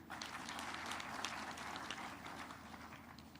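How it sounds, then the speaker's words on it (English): Audience applause at the SADC Sustainable Energy Week conference, a dense, even patter of many hands clapping continuously and fairly loudly throughout, with no voices over it. "let's clap for that"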